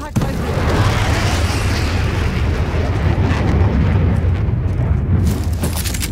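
Airstrike explosions in the shooter game Dirty Bomb roll out as one loud, continuous roaring rumble of blasts lasting several seconds, dense and close, with a brief voice heard under the noise.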